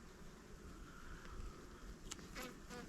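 Honeybees buzz steadily and continuously throughout, fairly close and even in loudness, with no voices present.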